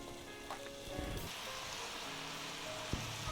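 Spaghetti cooking in a skillet for baked spaghetti gives a steady, close sizzle and crackle that runs the whole time, with a few faint clinks and one sharp tap near the end.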